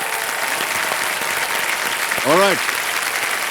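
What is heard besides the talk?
studio audience applause for contestants on Kaun Banega Crorepati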